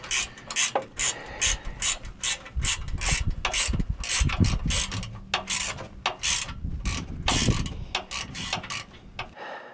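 A ratchet wrench clicks in quick bursts while tightening U-bolts around a tow hitch receiver in a cramped space, the loud close-up ratcheting repeating in uneven back-and-forth strokes with brief pauses.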